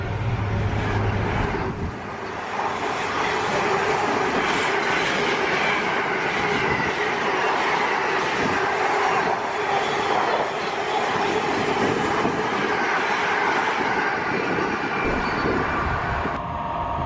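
Avanti train passing through Wolverton station, a steady loud rumble of wheels with rhythmic clickety-clack and faint squeal as carriages roll by continuously for the whole stretch.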